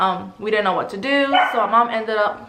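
A pet dog barks and yips indoors in the background, partly masked by a person talking continuously over it.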